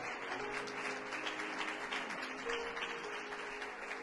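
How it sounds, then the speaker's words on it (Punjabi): A church congregation applauds in praise, a sustained, even patter of many hands clapping heard from a distance, with faint tonal hum from music or a sound system underneath. "ਪ੍ਰਭੂ ਦੇ ਨਾਮ ਤੇ ਜ਼ੋਰਦਾਰ ਤਾਲੀ ਵਜਾਵਾਂਗੇ"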